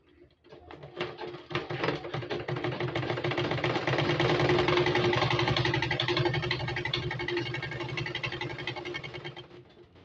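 A sewing machine stitches a turban cap in one steady, continuous run of rapid mechanical whirring, fairly close, swelling and then tapering off at the end, with no talk.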